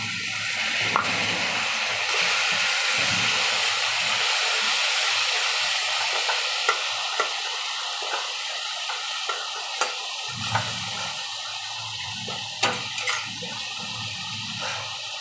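A little water goes into a hot pan of fish, setting off a steady hiss and sizzle with occasional soft bubbling pops and light clicks over several seconds.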